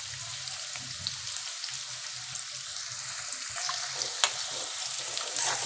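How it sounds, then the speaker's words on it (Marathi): Onion frying in oil until golden in a pan, a continuous close sizzling hiss with occasional soft stirring scrapes and a few brief clicks, no talk. "कांदा आपल्याला मस्तपैकी गुलाबी कलर येईपर्यंत असा व्यवस्थित असं भाजून घ्यायचं आहे"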